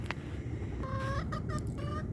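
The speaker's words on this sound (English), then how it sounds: "There are my chickens." Backyard chickens cluck in a few short, quavering calls close by, over a steady low rumble of outdoor background noise.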